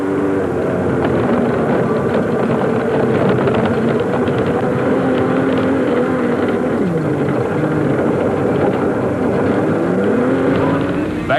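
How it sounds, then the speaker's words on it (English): Rough-running Hugbug special race car engine heard from inside the cockpit, a continuous droning roar with wavering pitch that rises and dips as it struggles for speed down the straights, close and loud throughout. "That creepy crawly Hugbug special still sounds very rough, and it seems as if Harkes just cannot get it up to speed down the straights."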